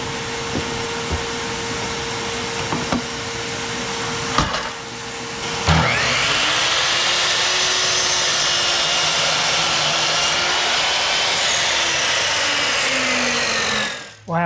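A 10-inch sliding compound miter saw spins up with a loud, steady whine and cuts through wood for several seconds, its motor pitch shifting under load before winding down at the end.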